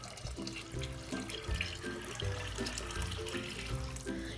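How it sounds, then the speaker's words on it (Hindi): Water runs steadily into a cooking pot of dal makhani for several seconds, a continuous splashing rush with soft music playing underneath. "अब इसमें पानी मज़ीद ऐड करेंगे।"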